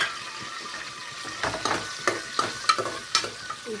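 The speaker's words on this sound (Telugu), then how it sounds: "తర్వాత ఉల్లిపాయ ముక్కలు తరిగి పెట్టుకుని వేసుకున్నాము." Onion pieces fry in a pan with cinnamon, cloves and cardamom, sizzling softly while a spoon stirs them in several quick scraping strokes.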